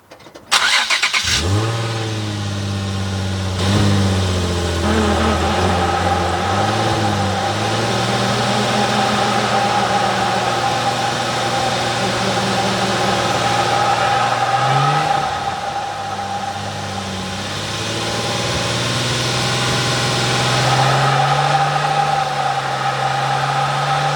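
A Nissan 350Z starts and runs steadily, heard from beneath the car near the drive shaft, with a persistent engine drone and a rough rotating noise lasting throughout, rising slightly toward the end, with no talking.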